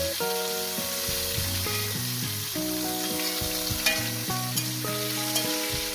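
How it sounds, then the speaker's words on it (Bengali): Potato pieces fry in a pan for a fenugreek greens dish, sending out a continuous crackling sizzle with stirring clinks and scrapes close by, and nobody speaks. "আলুগুলো দিয়ে আমি একটু মিনিট 2 করে"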